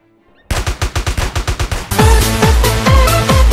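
Video game weapons in Call of Duty fire a quick burst of about ten evenly spaced shots, then heavier booming gunfire follows in a dense overlapping barrage, loud and close.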